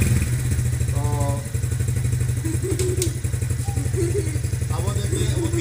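A motorcycle engine runs steadily at idle with a low, rapid putter, accompanied by clattering and occasional thumps outdoors near a gate.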